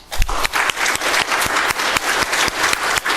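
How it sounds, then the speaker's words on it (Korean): A church congregation at a Sunday service gives a short burst of applause in praise and thanks to God, many hands clapping together in a loosely synchronized, pulsing rhythm, close and fairly loud, with no speech over it. "이 시간 하나님께 영광과 감사의 박수를 우리가 함께 올려드리십시다"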